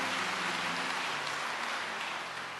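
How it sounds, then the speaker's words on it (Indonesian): A church congregation applauding together in a steady, dense wash of clapping that fills the room and fades slightly at the end, with no talking over it. "Tepuk tangan bagi Allah kita saudaraku."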